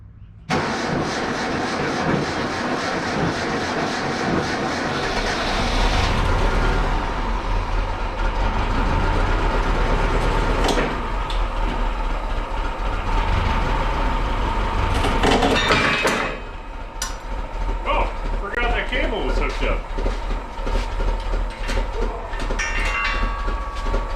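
Hyster H50X forklift engine cranking and catching on a cold start, then running on at a loud, rough, steady idle with a rise in revs, a brief clatter midway and no speech over it.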